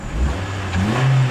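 The 1.5-liter four-cylinder VTEC engine of a 2008 Honda Fit Sport with a 5-speed revs up from idle, a steady low hum rising in pitch as the throttle opens, close and alone.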